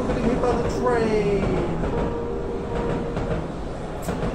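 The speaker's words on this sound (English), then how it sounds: "I'm getting hit by the train!" A train rushing in on the player in the horror game Tsugunohi's ethereal railroad crossing, a loud continuous rumble with a falling whistle-like tone, steady and close throughout, while a voice speaks over it.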